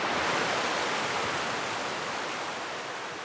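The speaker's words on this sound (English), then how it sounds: "The mist rises off the waves into the light as they crash." Ocean waves crashing in a sunny cove where a creek meets the sea, a loud, dense, continuous wash of surf that fades slightly over a few seconds, with no voices.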